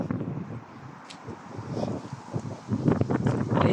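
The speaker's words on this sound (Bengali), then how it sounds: "এই যে বাতাস, এই বাতাসের কারণেই মূলত শীত লাগে।" Cold wind gusts outdoors in Dublin, Ireland under a cloudy sky, buffeting the microphone with low, uneven rumbles that swell and grow stronger toward the end.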